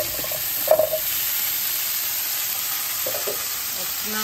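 Green beans and asparagus sizzle softly in a pan with garlic, a steady frying hiss running throughout with a couple of brief stirring clatters.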